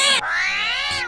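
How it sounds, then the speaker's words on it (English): A cat gives a single drawn-out meow, loud and close, starting with a sharp high onset and then sliding into a long, wavering, nasal cry. "that's a cat"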